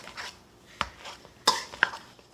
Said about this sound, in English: We have our old school potato masher here. We're just going to run it through a few times so we can start to mash our potatoes up.